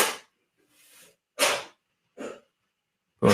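Several sharp sneezes, separated by short silent gaps with a faint breath between, loud and close.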